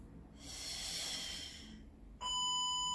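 A person breathes out one long, forceful, hissing breath during a strength workout, close and fairly quiet, and an electronic beep sounds right after it.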